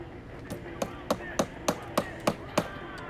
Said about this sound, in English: Jay brings the wood inside the barn and begins hammering the roof from underneath.